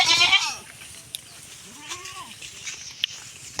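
A goat bleats once loudly and close at the start, followed by fainter, quieter sounds and light background noise.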